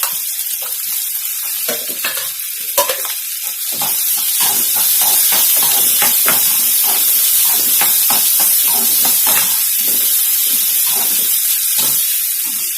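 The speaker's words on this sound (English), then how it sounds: "So I'm going to add onions." Onions and garlic fry in a hot pan with a loud, dense sizzle and hiss. Frequent sharp scrapes and clicks from stirring run throughout, and the sizzle grows louder and fuller after the first few seconds.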